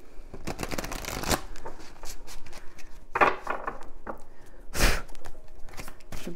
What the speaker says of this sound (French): Je brasse un petit peu encore.